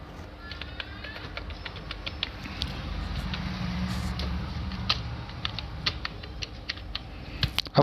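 Computer keyboard keys tapped in short irregular bursts while entering a username and password on an online registration form, with sharp close clicks scattered over a low room hum and no speech.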